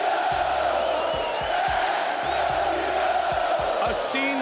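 UFC arena crowd roaring and cheering as people swarm the champion, a loud, steady wash of voices with a commentator talking over it.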